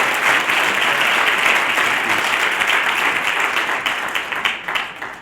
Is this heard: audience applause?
yes